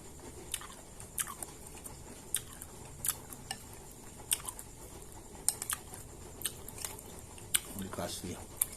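Crisp, crunchy chewing of young, tender coconut-shell rujak from Aceh, dressed with peanut and rujak spice, lime, sugar, shallot and tamarind: close irregular bites and crunches repeat steadily throughout, with a brief louder rustle near the end.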